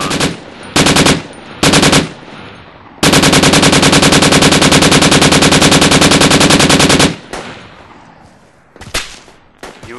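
Sustained automatic gunfire in the military shooter game Project Reality, aimed at the player: a few short bursts, then a long loud unbroken stream of rapid shots lasting several seconds, followed by scattered single cracks fading out.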